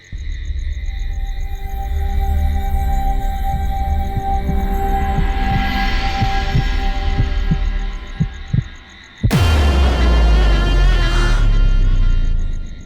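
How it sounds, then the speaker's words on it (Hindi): A mother's heartbeat heard as a steady run of soft, low thumps under a loud droning hum, cut by a sudden dramatic whoosh and swelling rumble near the end, with no voices. "मैं माँ को देख नहीं सकती, पर उनकी धड़कनों की आवाज तो सुन सकती हूँ।"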